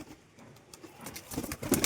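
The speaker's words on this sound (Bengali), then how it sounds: "আর একটা জাঁক কবুতর আছে," A pigeon coos softly nearby, its low, throaty murmurs faint at first and growing a little louder toward the end.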